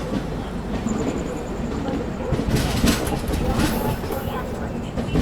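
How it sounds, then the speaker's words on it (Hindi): The Lichchavi Express rumbles along after pulling out of Tundla Junction, with a steady clatter of wheels and carriage noise heard from inside the coach and occasional faint sounds from nearby passengers. "बाकी निकल गई है ट्रेन अपनी जो है टूंडला जंक्शन से।"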